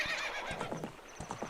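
Ocarina of Time horse gives a sharp whinny amid rapid clip-clop hoofbeats, close and fairly loud in a short burst.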